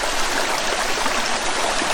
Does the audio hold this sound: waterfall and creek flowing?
yes